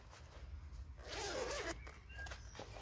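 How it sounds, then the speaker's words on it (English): A zipper is undone on a custom-made seat cover in a BMW i3, a close, continuous rasping pull lasting about a second with soft rustling before and after. "a couple of things you need to do before trying to pull these covers over the seats are a couple of"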